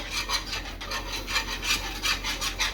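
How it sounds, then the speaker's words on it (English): Tomato basil chicken sauce whisked in a pan, a steady close scraping swish repeating in quick even strokes, with no talk. "And just whisk that around."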